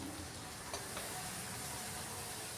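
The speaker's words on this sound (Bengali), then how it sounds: "তাই কিছুক্ষণ ঢাকা দিয়ে আমি কষাচ্ছি।" Spicy chicken drumsticks frying in a covered pan give a steady, even sizzle and hiss throughout, close and unbroken.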